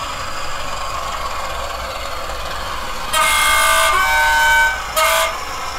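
Diesel locomotive horn produced by an Econami UK digital sound decoder for model trains: a steady low engine rumble, then a loud sustained two-tone horn blast followed by a short second toot.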